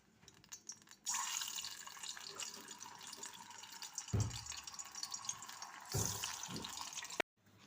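Potato pieces for French fries sizzle in hot oil in a pan, a loud bright hiss that starts abruptly and surges as more pieces drop in, then cuts off briefly near the end.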